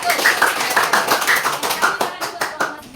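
Students in a classroom clapping in unison, a brisk series of sharp, close claps mixed with voices chanting over them.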